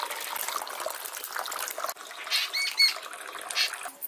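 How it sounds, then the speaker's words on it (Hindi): Water being drained off freshly cooked rice through a strainer, a close wet splashing and trickling with a few brief squeaky clinks, uneven bursts over a few seconds, no speech. "तो चावल हमारा पक चुका है, इसको छान लेते हैं"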